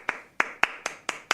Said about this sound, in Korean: 박수요, 빨리. 아니 박수요.